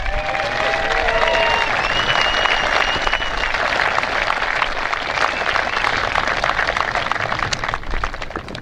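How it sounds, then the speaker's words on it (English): Outdoor crowd applause honoring military members at a Battle of Fort Fisher 150th anniversary event, sustained dense clapping with some cheering and whistles early on, continuous and fairly loud throughout. "let's give them another round of applause"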